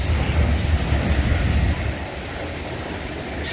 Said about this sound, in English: If this auto rack train at least has a DPU on it, that would be cool.